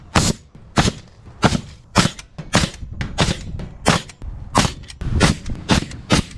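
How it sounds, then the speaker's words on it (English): A nail gun fires repeatedly while fastening a 2x4 into wood framing during a wood shop remodel, giving about a dozen sharp, loud cracks in quick irregular succession at close range. "We're just gonna shoot a 2x4 in here."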